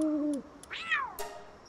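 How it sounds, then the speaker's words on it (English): A cat helper creature in the video game Palworld gives a couple of short, close meows against a quiet game background. "Activate cat helper."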